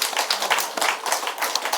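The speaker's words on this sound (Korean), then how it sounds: "박수 한번 하겠습니다" A church congregation claps its hands in applause at a Sunday service, a quick loose patter of many hands at moderate loudness with no voices.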